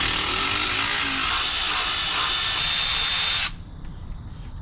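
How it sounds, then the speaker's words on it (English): A Milwaukee M12 cordless power ratchet with a deep 9/16 socket whirs steadily, backing out rusty 12-point hub bolts on a 1996 Ram 2500 front brake job, then cuts off abruptly, leaving a faint, quiet background. "Milwaukee M12 ratchet saves a lot of wrist pain."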